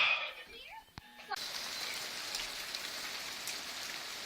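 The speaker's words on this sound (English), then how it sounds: "So it's hailing and raining at the same time." Rain mixed with hail falls steadily outside, a dense, even hiss of drops on surfaces that holds for several seconds after a short quieter moment at the start.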